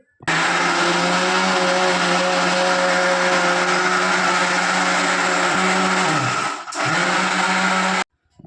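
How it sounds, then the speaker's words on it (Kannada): A mixer grinder roars loud and steady while grinding mint leaves, garlic, ginger and green chillies, with a brief dip near the end before the whir resumes and then cuts off. "ಈಗ ಗ್ರೈಂಡರ್ ಮಾಡ್ಕೊರೋಣ್ರಿ."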